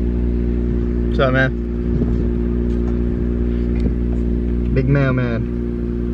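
An Infiniti Q50 engine drones steadily at high idle RPM, close and loud, a constant low hum with someone talking over it in two short bursts.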